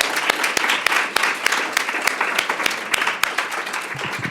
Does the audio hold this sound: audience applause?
yes